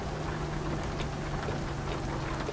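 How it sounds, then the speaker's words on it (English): Heavy downpour drumming steadily on a truck in American Truck Simulator played in VR, a dense unbroken hiss with a low engine hum beneath, no voices. "The rain is loud. Yeah, it's downpouring."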